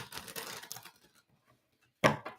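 A deck of cards being shuffled during a live card reading, a dense riffling burst at first, trailing off into quiet, then a sharp loud flurry near the end.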